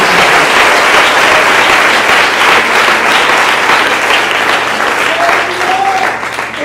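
Congregation at a church service applauding, a dense, loud, continuous wash of clapping that holds steady throughout and is lightly shaded by voices.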